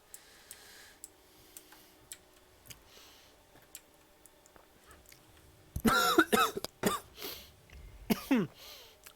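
A person coughs several times in harsh, close bursts near the end, after a stretch of quiet with faint regular ticking clicks in the background.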